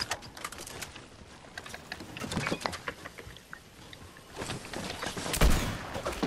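Bursts of gunfire rattle in the video game Fortnite, a string of sharp cracks and rapid volleys that grow denser and louder toward the end, with no voices over them.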